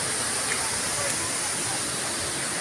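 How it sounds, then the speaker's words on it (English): A mountain waterfall in the Philippines gives a steady, dense broadband roar, loud and close, filling the whole stretch evenly without breaks. "That's the waterfall."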